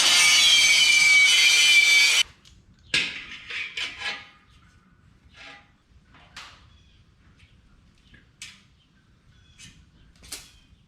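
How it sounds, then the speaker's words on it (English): Grinder stripping galvanizing off a steel sign post, a loud harsh grinding for about two seconds, then quieter scattered scrapes and taps. "I have to grind this galvanizing off before I can weld this on"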